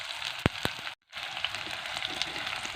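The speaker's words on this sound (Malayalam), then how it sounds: "ഉള്ളി നല്ലോണം വഴറ്റി കൊടുക്കാം." Large onions sautéing in a pan for a Wayanad-style crab roast give off a steady, bright sizzle with a few sharp crackles and one brief drop-out. No one talks over it.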